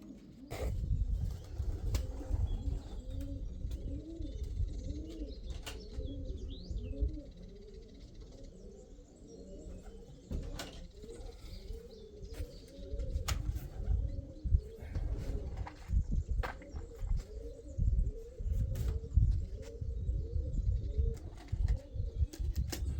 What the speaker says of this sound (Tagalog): parundahin ko lang yung ating mga kalapate